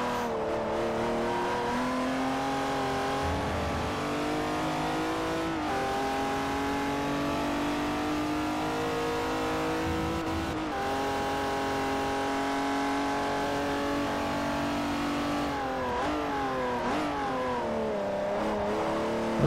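An older small BMW production race car in Forza Motorsport 4 revs hard and continuously, its engine note rising and falling through gear changes, loud and up front with no talking.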